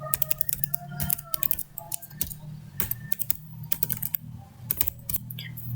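Fast, close keystrokes on a computer keyboard as a database name is typed into a MySQL command prompt, irregular bursts of clicky taps with short pauses, no talking.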